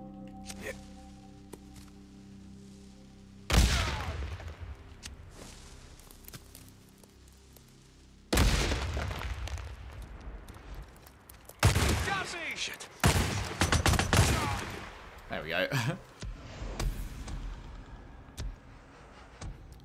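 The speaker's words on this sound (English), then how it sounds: "two dynamites and three shots from the cowboy." Explosions and gunshots from the Days Gone video game during a militia attack, with two dynamite blasts and about three shots. The loud bursts sit among ongoing game noise, and someone talks at times.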